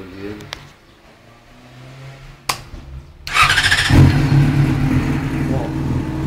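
A Yamaha Fazer 600 motorcycle fitted with a loud aftermarket exhaust cranks and fires up, settling into a loud, rough, rumbling idle close by, with a few clicks and a short whir beforehand and someone speaking over it.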